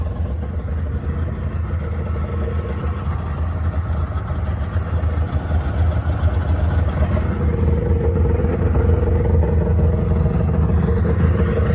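A Polaris Indy XLT 600 triple snowmobile engine runs cold, a steady close-up idle with a low rumble that holds evenly and grows slightly louder toward the end, with no talking.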